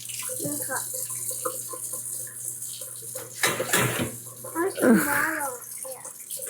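Water from a tap runs and splashes onto pizza dough in a kitchen, a loud bursty gush between brief stretches of people talking nearby.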